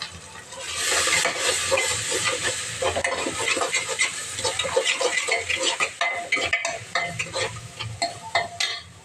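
A vegetable with salt, chili and homemade spice mix fries and is stirred in a pan. Close, crackling sizzle runs under repeated scraping stirs and light clinks of a utensil against the pan, with no talking.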